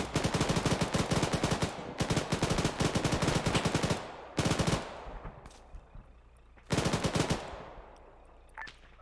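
Bursts of automatic machine gun fire in a military simulation game, several long rapid rattling volleys separated by short pauses, loud and close, with faint distant shots between bursts.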